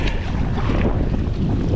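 Strong, steady wind buffets the microphone during sea kayaking in an inflatable high-pressure kayak with waves around, a dense continuous roar with no talking.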